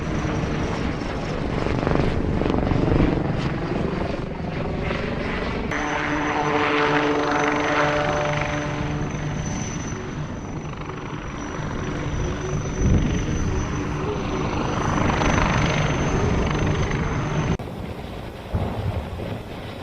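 Propeller aircraft fly overhead during an Aero India 2021 airshow rehearsal in Bengaluru, a loud sustained engine drone that swells and fades as the planes pass, with a shift partway through and no talk.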